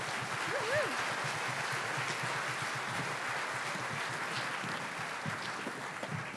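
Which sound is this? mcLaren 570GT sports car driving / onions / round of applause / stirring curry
round of applause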